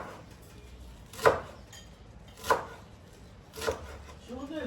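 A knife chops through coarse herb roots on a board during Easter cooking of chakapuli, three spaced, crisp thuds about a second apart, close and clear against a quiet room.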